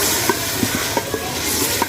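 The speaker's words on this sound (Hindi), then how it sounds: "अब हम टमाटर और हरी मिर्च कटी हुई है वो डाल देंगे इसमें" Chopped tomatoes and green chillies drop into a hot pan of browning meat for aloo gosht, giving a steady close sizzle with a few soft stirring knocks scattered through it.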